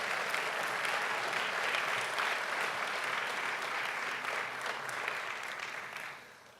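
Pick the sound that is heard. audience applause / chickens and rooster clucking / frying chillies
audience applause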